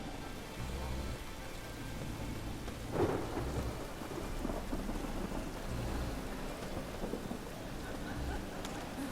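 Steady rain hisses across a stormy scene in The Witcher 3 video game, with a low thunder rumble swelling around the midpoint; the downpour stays even and moderately quiet throughout, with no talking.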